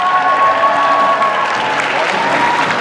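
An audience at the Supanova Perth 2015 cosplay contest claps for a contestant, giving a dense, steady round of applause that fills the whole stretch without a break.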